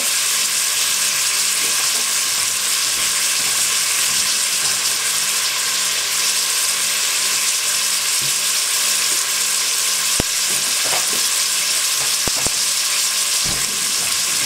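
Food cooking in a pan for a shrimp blanquette with wild garlic. A loud, continuous sizzle fills the whole stretch, with a few brief clinks and scrapes of stirring toward the end.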